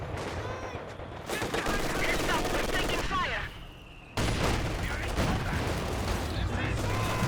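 Rapid machine gun bursts from dual light machine guns in a World War II real-time strategy battle, crackling loudly and continuously with overlapping gunfire and a brief lull midway before the firing resumes.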